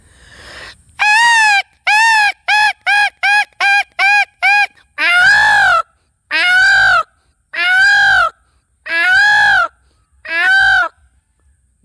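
A man imitates a crow's caw with a run of quick, evenly spaced calls that lengthen into five louder, drawn-out caws, close and clear against a quiet outdoor background.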